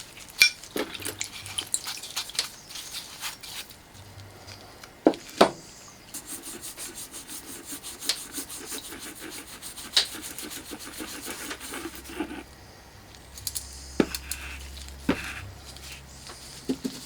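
Gramophone parts soaked in white spirit are brushed clean of sludge, giving steady close scrubbing and rasping strokes with occasional metallic clinks and knocks, and no speech.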